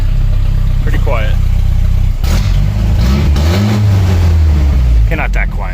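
The engine of a 1992 Toyota 4Runner runs with a low, steady exhaust drone during a muffler install, and people talk close by over it.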